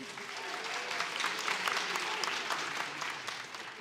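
A crowd at a talent show applauds, a steady, fairly quiet patter of many hands clapping at a distance, with some voices mixed in.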